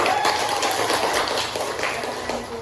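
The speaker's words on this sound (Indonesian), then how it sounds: "Tepuk tangan sekali lagi" A classroom of children clapping at the end of a lesson, a dense, steady wash of applause that stays fairly loud throughout.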